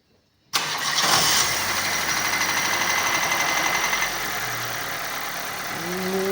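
A Daewoo Lanos 1.5 car engine cranks and catches after an oil change, then settles into a steady, close idle with a faint whine, with a slight change in tone partway through.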